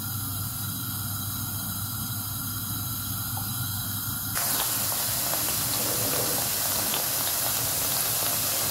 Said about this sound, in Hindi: अभी हम इसको फ्राई कर लेंगे।